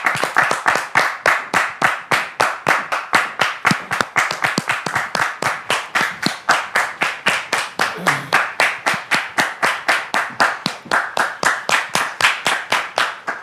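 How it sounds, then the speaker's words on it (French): Studio audience on a television show clapping to welcome a couple of guests, sharp rhythmic hand claps in unison, loud and close, repeating at a fast steady beat with no talk. "Je voudrais vous demander de les recevoir avec vos applaudissements,"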